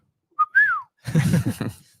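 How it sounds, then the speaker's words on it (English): A referee's whistle, or a person whistling like one, sounds once as a short rising note and then a longer falling tone. It is followed by a burst of loud talk. "That's a whistle. That's what the referee uses"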